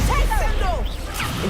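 Rapid Stupefy spell casts in the video game Hogwarts Legacy, several swooping, bending magical zaps in quick succession over a loud, dense battle background.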